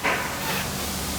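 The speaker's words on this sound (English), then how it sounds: "he's using a spray hot melt" A worker sprays hot melt adhesive onto bead-type Eperin foam in a case factory, producing a short soft hiss that swells quickly then fades into a low steady spray noise.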